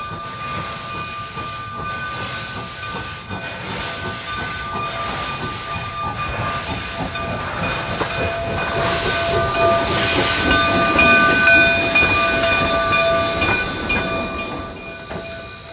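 A steam locomotive being pulled along the rails by a bucket loader, giving a steady rolling rumble with hiss and faint tonal squeals that grows slightly louder toward the middle, with no talking.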